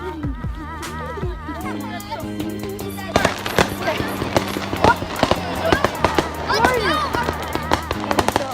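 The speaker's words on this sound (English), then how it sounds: "Finally, we're actually doing fireworks. So, there they are." Victoria Day fireworks go off in a dense run of sharp bangs, crackles and whistling rises, sparse at first and then rapid and continuous, while people talk nearby.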